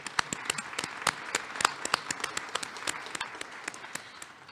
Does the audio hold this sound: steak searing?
no